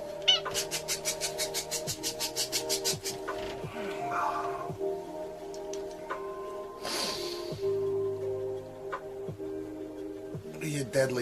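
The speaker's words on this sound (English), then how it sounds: "You deadly cat." A cat meows in a rapid string of short, repeated cries near the start, then quieter calls and snorts follow over a steady background hum while people talk.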